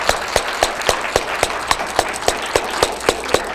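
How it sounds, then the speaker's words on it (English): Applause from a student audience at a school government presidential debate, heard as sharp irregular claps that ring out fairly close and loud with no voices over them. "give them both a big round of applause."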